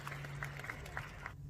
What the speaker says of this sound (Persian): با تشویق حضار رو برو میشه